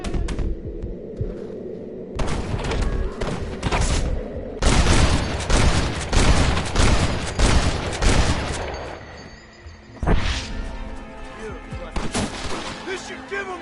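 Gatling gun fire in a Red Dead Redemption village battle: long stretches of rapid, loud rattling shots with a low throbbing hum, pausing and resuming, voices briefly heard over the shooting.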